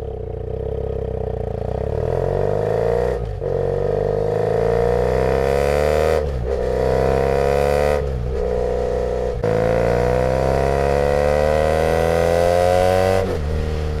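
Motorcycle exhaust captured right at the tailpipe by a Shure SM11 microphone: loud, close engine revs climb repeatedly in long sweeps, each broken by a brief drop as gears change, with no voices.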